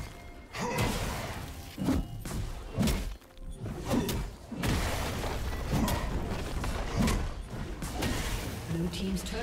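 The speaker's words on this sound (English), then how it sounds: "Blue team's turret has been destroyed" A turret is destroyed in League of Legends, with heavy thuds and crunching impacts striking at roughly one-second intervals before a final shattering collapse, and voices talk over the fight.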